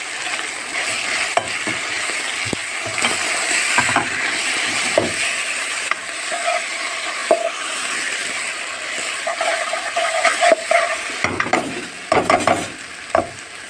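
Tomato paste cooking with spices in a pan, a soft continuous sizzle broken by repeated scraping and clacking stirs at an irregular pace, close up and with no talking.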